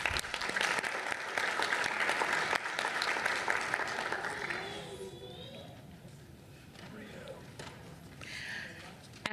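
At a city commission meeting, an audience claps loudly for about five seconds, then the clapping thins out into shuffling and murmuring, with a person speaking over it.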